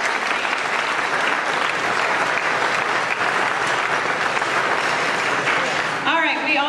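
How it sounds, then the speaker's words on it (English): Audience applauding at a middle school band awards ceremony, a dense sustained roar of many clapping hands throughout, loud and steady, with a voice starting to speak briefly near the end. "give him a round of applause."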